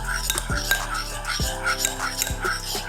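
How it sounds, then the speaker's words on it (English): Stirring a low-calorie protein brownie mixture in a bowl, with repeated scraping clinks of a utensil against the dish and soft sloshing, close and steady throughout with no talk. "We're gonna give this a good stir."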